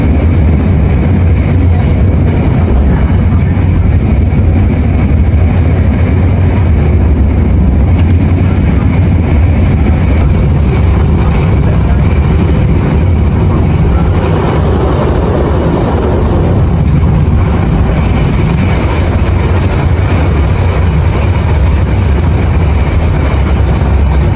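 KA Pasundan passenger train, a new set of carriages, rolls along with a loud, continuous rumble and rattle heard from inside, steady throughout with no voices.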